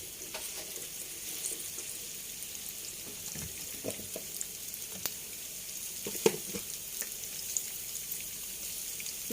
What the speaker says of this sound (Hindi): इसको सिर्फ इतना भूनना है कि इसका लेस सा आता है वो आके खुश्क हो जाए